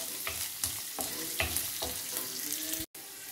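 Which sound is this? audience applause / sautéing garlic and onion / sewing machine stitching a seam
sautéing garlic and onion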